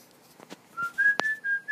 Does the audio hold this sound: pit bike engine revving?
no